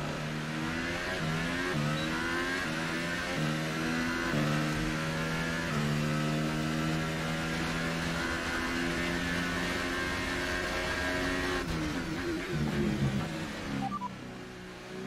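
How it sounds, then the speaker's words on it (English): A McLaren Formula 1 car engine in F1 2018 at the Azerbaijan Grand Prix, its condition sounding off, holds a loud, steady, harmonic whine that rises and falls with the revs and dips briefly near the end. "I think the car sounds a bit weird, like the spare other parts already given up."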